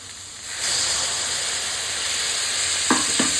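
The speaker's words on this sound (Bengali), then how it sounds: "সমস্ত কিছু আবার ভালো করে একটু কষাবো" A spice masala of turmeric, black pepper and cumin sautéed with a splash of water for mutton curry, a loud, steady sizzle and hiss with stirring scrapes near the end.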